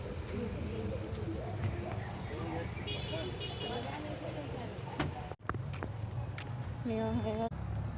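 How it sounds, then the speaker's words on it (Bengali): Birds calling outdoors in the morning, a few clear tonal, dove-like calls rising over a steady wash of background noise, with one louder burst of calls near the end. "সকাল সকাল কি সুন্দর পাখি ডাকে"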